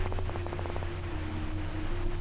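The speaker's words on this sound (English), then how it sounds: "White noise." Static in a horror video game, a constant hiss under a steady low hum and a sustained whining tone, with a brief rapid train of clicks or pulses near the start.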